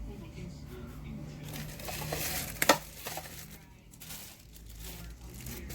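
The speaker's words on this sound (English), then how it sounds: "And I'm gonna whisk this." A small whisk stirs strawberry cake batter in a bowl, giving soft scraping and swishing strokes with a brief sharper rattle midway, while a person talks over it.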